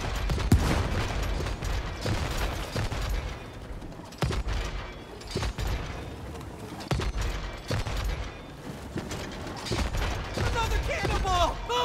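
Cannonballs explode in the video game It Takes Two: repeated sharp booms and bursts land in close succession over a busy game soundtrack, with some dense, loud stretches.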